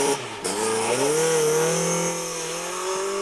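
Darien T9 rally car on a Lombard Tredegar stage, loud engine note climbing through the revs as it drives past close by, steady and continuous.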